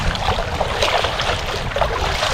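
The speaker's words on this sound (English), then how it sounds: "the wind's picking up, it's getting a bit bigger out here" Wind picking up on the open sea around a fishing kayak, a dense continuous roar of gusts buffeting the microphone and water rushing close by; no voices.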